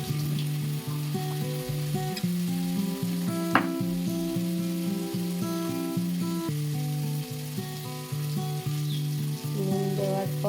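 Mustard and poppy seed paste spices fry steadily in hot oil for pabda fish jhal, a continuous close sizzle with occasional stirring scrapes throughout.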